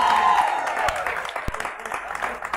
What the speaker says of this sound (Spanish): Aplauso para Magic.